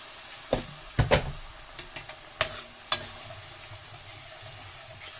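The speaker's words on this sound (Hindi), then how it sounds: "तो मैं इसमें 1/2 कप गर्म पानी शामिल कर रही हूँ।" Hot water goes into a pan of simmering Sindhi arbi (taro root) curry with tomatoes and onions, giving sharp metallic clatters and knocks followed by a low steady sizzle, with a few lighter taps spread out.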